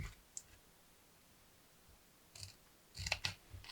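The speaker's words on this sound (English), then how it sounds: "I'm going to cut into the sides" Scissors snip into the sides of a small paper miniature lid, with a faint click early on, then a couple of close, quiet crisp cuts near the end over soft rustling.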